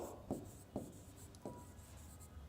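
Writing an answer by hand on paper for a fifth-grade math percentage exercise, soft scratchy pen strokes with a few distinct taps in a quiet room, close and faint.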